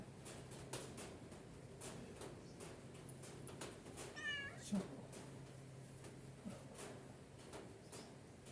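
A cat that has just been bathed gives a brief meow amid quiet, faint background noise, with soft clicks and rustles around it.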